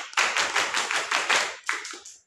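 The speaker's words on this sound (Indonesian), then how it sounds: "ayo coba tepuk pramuka" Children doing the Indonesian scout clap, tepuk pramuka, in a group: a quick rhythmic pattern of loud, close unison claps that pauses briefly, then closes with a final short burst of claps.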